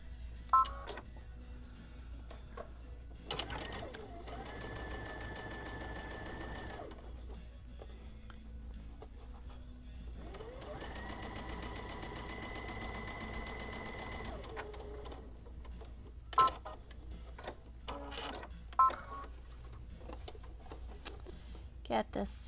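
A sewing machine stitches along guidelines on a fabric gadget stand in two separate runs. Each run is a steady motor whine with even stitching, and the runs are divided by quiet gaps with small clicks and handling sounds.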